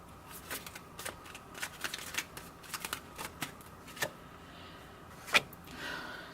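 Tarot cards are shuffled and drawn close by, a run of soft riffling flicks and slaps at irregular intervals, with one sharper snap near the end and light handling rustle.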